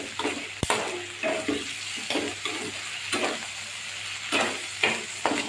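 A spoon stirs vegetables and garlic around a hot pan for adobo, giving repeated scraping, sizzling strokes in a steady rhythm with one sharp knock near the start.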